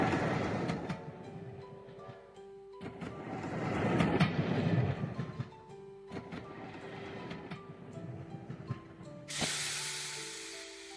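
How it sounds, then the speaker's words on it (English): Rumbling, hissing train movement effect for a miniature train circling a mountain in a snow globe scene, swelling and fading as it passes, with a brighter hiss near the end. "you can also listen to the special audio on the train that I just mentioned"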